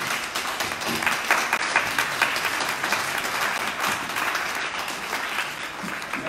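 A church congregation fills the space with steady, sustained applause for Jesus. Dense clapping continues evenly throughout, with no voice rising clearly above it.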